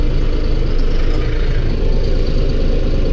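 A tractor runs a PTO-driven generator, giving a loud, steady low engine drone that holds evenly throughout with no voices.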